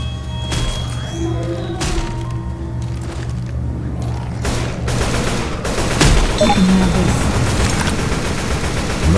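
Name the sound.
gunfire in the video game Left 4 Dead 2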